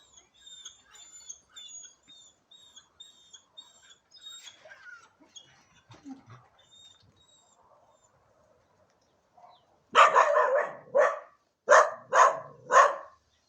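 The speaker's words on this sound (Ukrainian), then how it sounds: "Бачите, гавкає, але не так уже боїться." A wary adopted dog barks at a person entering its territory, letting out about five loud, close barks in a burst near the end, after a quieter stretch of high chirps and small sounds.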